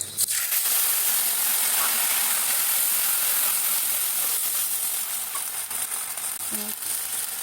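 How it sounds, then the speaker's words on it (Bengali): Garam masala, cumin seeds and green chilli paste hit hot oil with a loud, hissing sizzle that stays strong and steady, easing slightly over the seconds with occasional stirring taps. "জিরাগুলো ফুটে উঠেছে এখন এই যে গরম মশলা জিরা কাঁচামরিচ বাটা"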